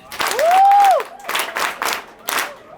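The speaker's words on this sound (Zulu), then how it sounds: "sicela bakithi ke nishaye ihlombe" Audience applause at a uMhleli Foundation prize giving day: a few short bursts of clapping, with a sustained whistle-like tone near the start.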